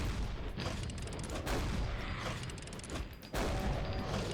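A BFG in a Doom mod fires with dense, loud blasts over a rumbling, mechanical din, with sharper bursts near the start, the middle and the end.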